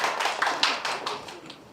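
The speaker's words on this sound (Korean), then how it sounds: "다시 박수 보내주시기 바랍니다" Audience applause at an academic literary research conference as a presenter is welcomed, a steady patter of many hands clapping that fades out over under two seconds.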